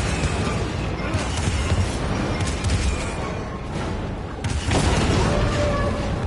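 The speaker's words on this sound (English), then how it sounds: "So that fires the cannon." Cannon fire in the Star Wars Jedi: Fallen Order video game: heavy booming blasts and explosions rolling over dense game noise, loud and sustained, with a fresh burst near the end.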